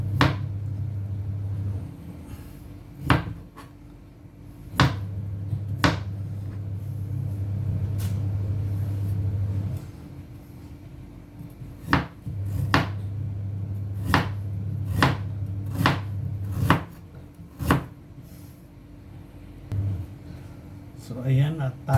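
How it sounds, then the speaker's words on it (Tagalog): Ingredients being chopped on a board for salmon head sinigang, with sharp knife strikes at an irregular pace, some in quick pairs, and a low droning background with what sounds like a voice at times. "at tayo maggayat na ng ating ingredients"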